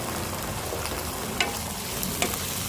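Liver fries in a pan after browned onions, a steady close sizzle and hiss with a couple of faint clicks from a utensil, no voices.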